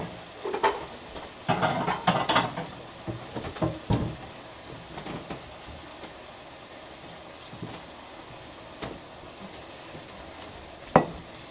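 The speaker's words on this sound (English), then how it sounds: "Give it one more final stir." Sesame ginger beef stir-fry noodles stirred in a hot pan, with clattering scrapes in a busy burst over the first few seconds, then a soft sizzle, occasional knocks and one sharp clank near the end.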